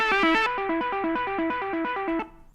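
Synthwave arpeggio from a Cubase session, a bright, buzzy synth repeating a quick stepped pattern with chorus-like modulation, loud and steady for about two seconds before cutting off, with no voice.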